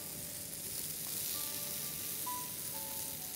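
Fruit and vegetable skewers, including honey-glazed strawberries with garlic and thyme, sizzle softly and continuously on a grill, a faint even hiss with small pops.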